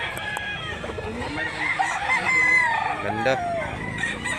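A round-head, straight-comb spanggol gamecock crows near and loud in a rural Cebu rooster yard, one long crow over background clucking and someone speaking briefly.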